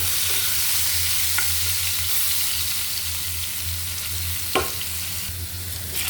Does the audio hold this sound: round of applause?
no